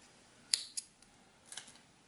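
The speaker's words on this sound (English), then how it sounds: "cut off my yarn" Scissors snip crochet yarn, with a crisp close snip followed by a few fainter clicks and a second soft double snip, all quiet against a near-silent background.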